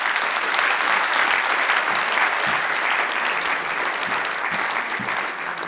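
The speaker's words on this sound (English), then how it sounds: "give a big round of applause for Mr." A lecture audience applauds an architect from ACME Architects as he is introduced, a dense, steady wash of many hands clapping that holds strong throughout and eases slightly near the end, with no talking.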